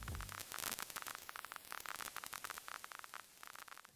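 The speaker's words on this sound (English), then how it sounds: "that 1 millisecond of crackling noise gets stretched and pulled like taffy" Dense digital crackle from Ableton's vinyl distortion effect, stretched and warped by a pitch shifter's delay into a rapid stuttering texture of clicks and static bursts, faint and alone.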